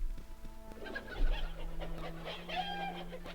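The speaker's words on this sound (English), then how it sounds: "Weirdest sounding chicken ever" A chicken in the Baldur's Gate video game gives a string of odd, close clucks and squawks over a low steady hum, with no talk.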